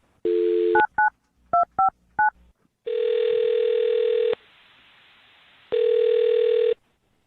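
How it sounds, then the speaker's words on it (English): Touch-tone keypad beeps in quick succession, followed by two long, loud ringback tones with a pause between them. "I'm going to dial his phone number right now"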